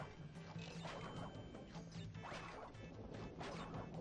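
Wooden crates smashed one after another in the PS1 game Crash Bandicoot 2 (modded), a string of crunchy breaking bursts over a steady low game-music hum, fairly quiet overall.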